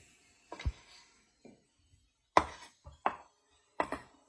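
A knife chops through chorizo sausage on a cutting board as part of a clams-in-cream-sauce dish, giving about six separate sharp thunks spaced irregularly, close up and clear with no talking.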